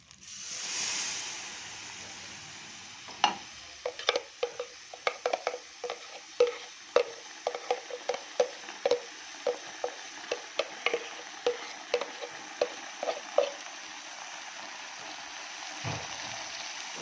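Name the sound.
stirring pasta sauce in pot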